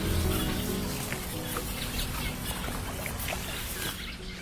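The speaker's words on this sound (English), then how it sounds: "That amazing song you can hear is the reed warbler." Busy, chattering reed warbler song of rapid chirps and trills, fairly close, in a reed bed, over a steady background hiss like rain or wind in reeds.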